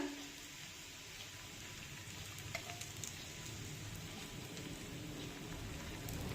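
Rice flour thalipeeth fries in oil on a pan, giving a faint, even crackling hiss with occasional tiny pops throughout.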